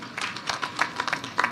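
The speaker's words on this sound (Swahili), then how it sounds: "Makofi tena." Light, scattered clapping from a small gathering at a family and church funeral ceremony, applauding a man named Philip, with a few quick uneven bursts of hand claps at moderate distance and no voices.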